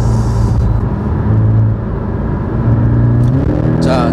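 A Porsche 718 Boxster GTS's mid-mounted boxer engine drones loudly and steadily under hard driving, its tone climbing and shifting with the revs, with a brief rising whine near the end.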